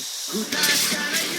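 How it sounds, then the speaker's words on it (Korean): Opening an Asahi Super Dry draft beer can gives a sharp pop and then a loud, close rush of hissing foam that fades slightly over a second. "따는 순간 솟아나는 부드러운 거품"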